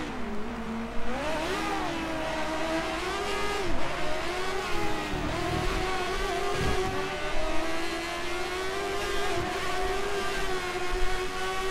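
A race car engine in a racing video game mod revs steadily at high pitch with shifting tone, continuous and close throughout, no talking.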